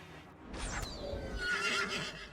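Horses in the colony-building video game RimWorld, downed during a fight, give a loud, close whinny that rises and trails off over a couple of seconds, with faint hoof clatter beneath and no talking.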